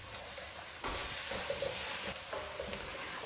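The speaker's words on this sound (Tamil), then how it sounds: "இப்போ இதையும் சேர்த்து நல்லா வதக்கிடலாம்." Steady sizzling of beans, carrots and green capsicum sautéing in a hot pan, with occasional stirring and scraping, no voices.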